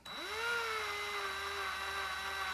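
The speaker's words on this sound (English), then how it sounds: "Notice how this drill bit, the only thing it's doing is making the hole a little bit bigger" A small drill bit runs steadily to widen an axle hole in a Hot Wheels die-cast car, a close, faint, continuous motor whine that rises as it spins up and then holds a steady pitch, with no talk.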